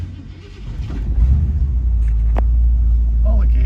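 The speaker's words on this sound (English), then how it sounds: "let's take this baby for a drive" A 1966 Ford Mustang pulling away on a drive, its engine settling into a loud, steady low rumble close to the microphone with a brief squeak partway through.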